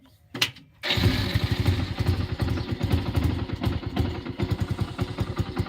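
A motorbike engine catches after a brief start attempt, then settles into a loud, rapid, putt-putting idle close by that keeps running steadily to the end.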